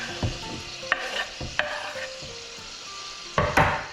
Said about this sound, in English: All you're doing is sweating down the onions, so you get that lovely mixture of the butter, the pancetta, olive oil.